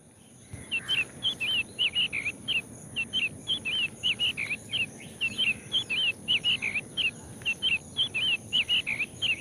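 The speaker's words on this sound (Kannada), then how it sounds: "ಹಕ್ಕಿಗಳ ಚಿಲಿಪಿಲಿ ಸಹ ಕೇಳಿ" Small birds by a roadside give rapid, repeated high chirps in quick bursts, fairly close and clear over faint insect hum, no voices.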